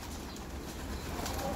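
Pigeons in a loft being dosed with a respiratory treatment give soft cooing and light wing flutters under a steady, close background murmur, with no talking.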